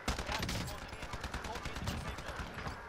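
Rapid machine-gun fire in Call of Duty: Modern Warfare crackles in dense, repeated bursts at close range, a steady stream of sharp shots across the full few seconds.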